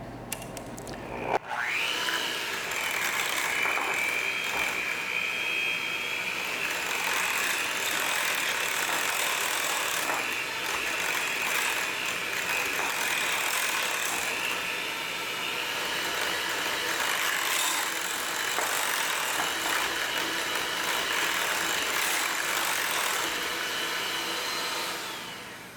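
An electric mixer whirs loudly and continuously for about twenty-five seconds, mixing applesauce and vanilla for an oatmeal banana cake batter. The whine stays steady with slight shifts as the beaters move through the bowl.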